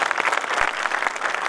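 An audience at a poetry recital in Dehradun breaks into applause, a continuous patter of many hands clapping at moderate loudness, with a few sharper claps standing out.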